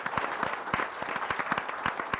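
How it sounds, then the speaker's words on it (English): An audience at a live Milwaukee arts show breaks into a round of applause, a steady dense wash of many hands clapping with no voices on top. "So round of applause for that."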